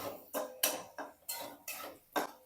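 Ridge gourd curry with spices and salt stirred in a pan, a utensil scraping and clinking against the metal in about eight quick, evenly spaced strokes, close and fairly quiet.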